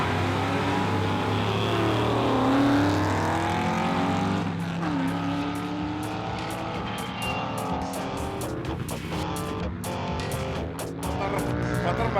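Racing machines roar along the Bonneville Salt Flats during Speed Week, a loud continuous engine drone with rising and falling pitch as vehicles pass, ending in rapid revving bursts.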